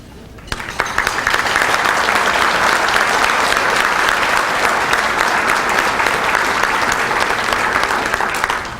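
An audience at a chamber of commerce breakfast bursts into sustained applause, many hands clapping densely and evenly for about eight seconds after a sharp start, then starting to fade at the close.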